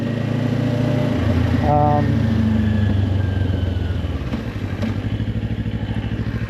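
Motorcycle engine of a 451 model while riding, a steady droning rumble with a brief rising whine, continuous throughout and mixed with wind noise and talk.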